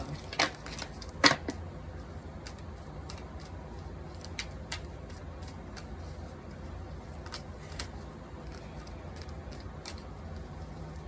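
Tarot cards being shuffled by hand, a run of soft papery riffles and light taps repeating through a quiet room, with a few sharper slaps near the start.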